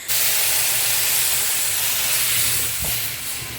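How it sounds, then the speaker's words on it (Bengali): Whole spices hit hot oil and are poured into masoor lentil dal, bursting into a loud, hissing sizzle that starts suddenly, stays strong, then eases slightly toward the end. "বোন যখন ডালে ফোড়ন দিচ্ছে দারুণ সুন্দর একটা সুগন্ধ আসে আর তোমরা তো আওয়াজেই বুঝতে পারছো"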